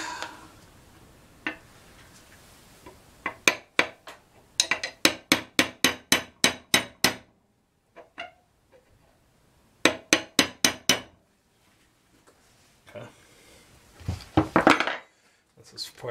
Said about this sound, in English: So I got my brass punch here, and I'm just gonna tap on it a little bit.